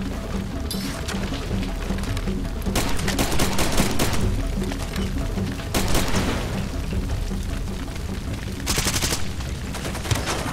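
Rapid bursts of gunfire and heavy explosions from the video game Far Cry 2, loud and near, with repeated volleys and booming blasts crowding the scene.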